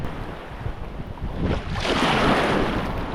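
Waves wash along the shore of Lake Superior, with wind buffeting the microphone, a loud, rolling surge that swells near the end.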